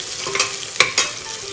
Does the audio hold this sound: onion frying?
yes